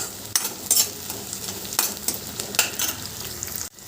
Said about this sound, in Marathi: कांदा परतल्यावर एक छोटा बारीक चिरलेला टॉमॅटो तो परतून घ्यायचा